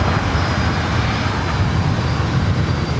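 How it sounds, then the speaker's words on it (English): A Philippine Airlines Airbus A330-300 taking off from the north side at LAX, a loud, steady, broad jet-engine roar that holds throughout without talking. "confirming north side takeoff for the Philippine A330-300"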